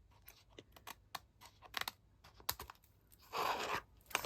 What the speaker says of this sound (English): I like to use my small scissors, especially when they've got that little bit of pattern there